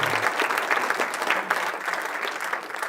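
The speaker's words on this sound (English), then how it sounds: "please, a round of applause for all my family" An audience at a music album release party claps in steady, dense applause for about three seconds, fairly close and even.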